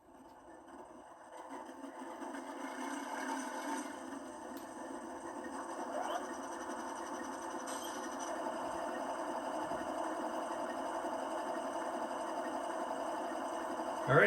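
Startup sequence of an Athearn Genesis AC4400CW model diesel locomotive with a Tsunami sound decoder on a test track: a steady mid-pitched engine drone rises from a quiet start and settles into a continuous idle, with faint clanks and hiss along the way.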